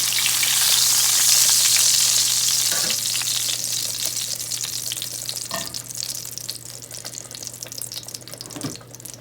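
Veal cutlets for veal parmesan sizzle in a frying pan with a loud, steady hiss that swells at first, then eases, broken by a few sharp pops and clatters.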